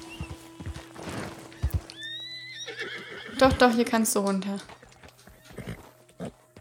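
A horse in the video game Red Dead Redemption 2 gives a loud, wavering whinny near the middle, with soft hoof clops and shuffling steps before and after, while someone talks over parts of it.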